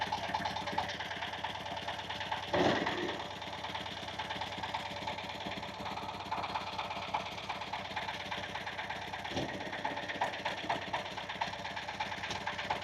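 A rice-farming machine's small engine runs steadily in a paddy field after starting, with a continuous mid-pitched chugging drone and a couple of brief louder knocks.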